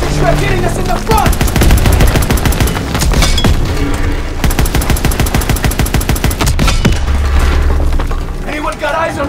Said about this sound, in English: Panzer Shrek hitting us in the front!